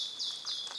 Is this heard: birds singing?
yes